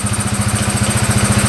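A four-wheel ATV engine running right after firing up with no throttle, its air box off: a loud, close, rapid rhythmic putter that stays steady and even throughout, with no talking.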